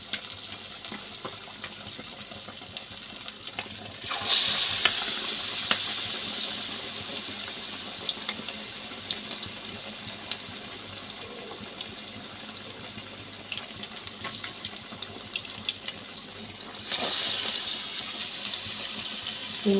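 Chicken wings frying at home in very hot oil on a gas stove, with a steady hiss of sizzling that surges loudly twice as pieces go into the pan.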